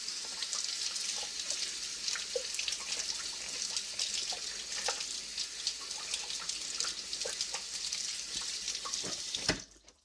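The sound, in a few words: tap water running while washing off utensil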